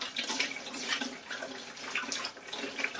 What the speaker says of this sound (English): So just going to rinse this bowl, wash my hands